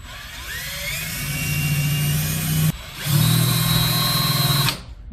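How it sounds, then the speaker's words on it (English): A power drill with a bit smaller than the screw bores into a stripped screw, giving two loud, close bursts of steady whining motor drone separated by a short pause; no talking. "Take a drill bit that's smaller than the screw."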